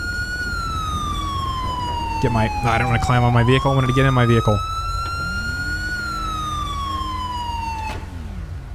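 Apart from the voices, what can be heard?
police car siren in video game GTA 5 LSPDFR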